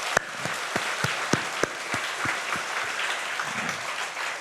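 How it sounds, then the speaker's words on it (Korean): Church congregation applauding to celebrate the birthdays of four elders at a Sunday service, a steady wash of many hands with a few sharper, closer claps standing out over the first half. "생신 축하하는 마음으로 박수 한번 쳐주세요."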